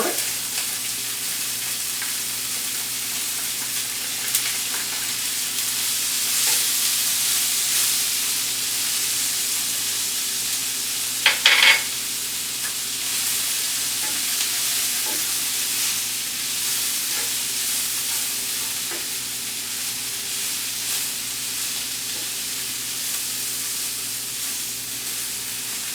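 Mushrooms and garlic frying in a pan beside wagyu, a steady bright sizzle and hiss running throughout with one brief sharper crackle midway, no talk.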